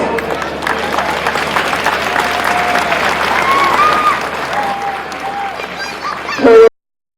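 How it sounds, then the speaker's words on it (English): Crowd at a Cavan Senior Championship football final between Castlerahan and Ramor United applauding both teams, dense sustained clapping with some voices and cheers, ending abruptly. "I'll call on a round of applause for both teams"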